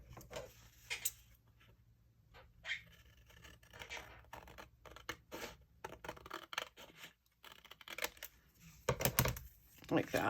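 Scissors snipping through folded paper during a craft session, several short crisp cuts and scrapes scattered irregularly, fairly faint and close, with a person talking quietly in between.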